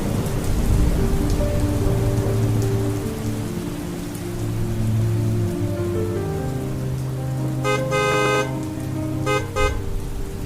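A radio-drama storm effect of heavy rain pours steadily and loudly while low thunder rolls beneath it, with a few sharp bright crackles near the end.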